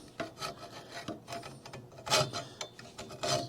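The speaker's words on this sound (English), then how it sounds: "so now what I want to do is cut these off. And that's the easiest way to do it is with a hacksaw" A hacksaw rasps through metal tubing on a golf batting cage under repair, with irregular back-and-forth strokes, the strongest passes near the middle and end, close by with no talking.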